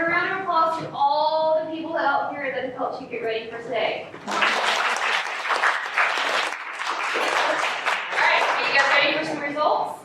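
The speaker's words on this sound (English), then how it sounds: "Give a round of applause to all the people out here that have helped you get ready for today." A voice speaks over a quiet room, then a crowd at a 2024 mock trial event breaks into loud, steady applause that carries on for several seconds with some voices mixed in.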